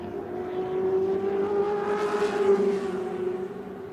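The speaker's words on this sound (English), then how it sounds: "Once again, Harvey passes the pit entry road, embarks on another lap." A race car at Adelaide International Raceway during a 1981 Australian Endurance Championship round, its engine a steady droning tone that rises and passes nearby, moderately loud, with no voices over it.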